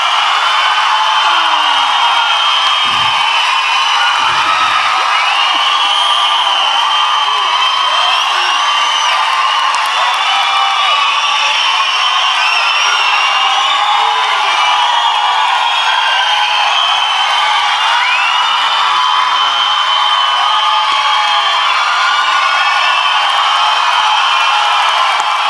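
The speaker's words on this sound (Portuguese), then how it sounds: "Foi um monte de grito à toa" Audience at a stand-up comedy show shouting, whooping and cheering continuously, a dense roaring crowd noise sustained at high level throughout.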